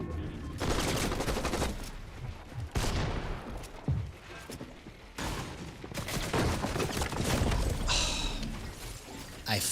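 Hip-fire gunfire in a first-person shooter video game crackles out in several loud bursts and rapid volleys with short gaps between, while a player talks over parts of it.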